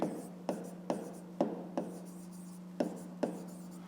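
A pen writes on paper during a fifth-grade math exercise, about eight short scratchy strokes at a steady pace, close and quiet over a faint steady hum.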